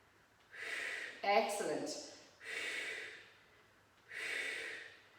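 Heavy exhalations during a pilates exercise, three long breathy puffs spaced a second or two apart, close to the mic, with a short spoken word among them.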